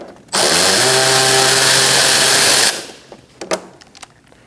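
A power tool fitted with a 10mm socket drives out a fender liner bolt on a 2020-or-later Toyota Corolla, giving one loud, steady whir of about two seconds, then stopping with a few faint clicks.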